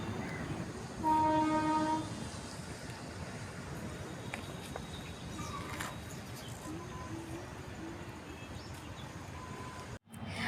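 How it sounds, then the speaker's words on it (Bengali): A train passes in the distance in the hills near Lonavala and Khandala, a brief horn blast early on over a steady low rumble, with faint ambient noise throughout. "ট্রেন লাইন দেখা যাচ্ছে ট্রেন যাচ্ছে এখন"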